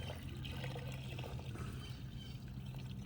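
Sump pump discharge water pours steadily into a mini dry well, a continuous gushing and trickling flow, faint and unbroken with no voices.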